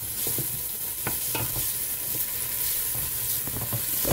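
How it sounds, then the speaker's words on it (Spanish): Chopped pepper sautés in oil in a pan, with a steady sizzle and repeated scrapes and clicks of a utensil stirring it. No one speaks. "Sofreímos, rehogamos,"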